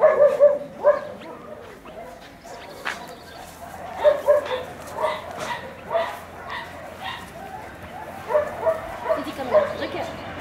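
A small rescue dog yips and whimpers in short bursts, close by, while someone speaks softly and affectionately over it throughout.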